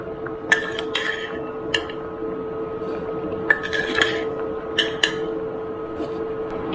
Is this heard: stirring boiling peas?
yes